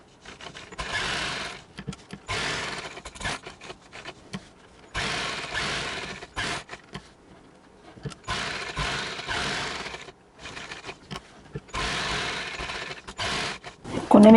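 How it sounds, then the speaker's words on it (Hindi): A sewing machine stitches alongside buckram while a designer sleeve is made. Close, moderately loud whirring bursts of running stitches are separated by short pauses, repeating steadily. "अब यहाँ से हम इसके बुकरम के बिल्कुल साथ साथ स्टिच करेंगे।"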